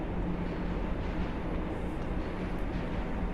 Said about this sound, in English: hear the train going over the harbour bridge.